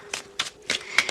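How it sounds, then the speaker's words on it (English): Tarot cards shuffled by hand, four quick crisp riffling snaps spaced evenly over about a second, close and fairly quiet with no talk. "while I'm shuffling, this is a general reading for all Virgos"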